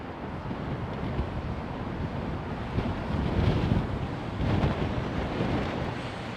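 A strong crosswind buffets the microphone at Heathrow Airport, a constant loud rumbling roar with gusty swells and no voices.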